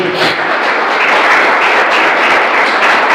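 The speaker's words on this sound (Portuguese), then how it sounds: "Vamos aplaudir nosso Deus" Loud, sustained applause from a church congregation fills the space, a dense wash of clapping with no pauses.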